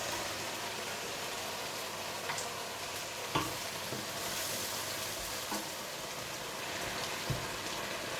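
Soft, steady sizzling of chicken in a frying pan with a few sparse scrapes and clinks of a spoon moving it around, fairly quiet and without talk.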